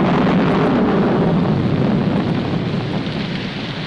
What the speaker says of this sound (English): It's going to rain.